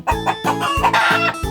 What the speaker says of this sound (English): Do you know how does chicken sound?